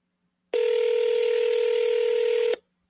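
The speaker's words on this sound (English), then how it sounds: "let's double dial her." One steady electronic telephone dialing tone sounds for about two seconds during a call to a seller, loud and clean against silence.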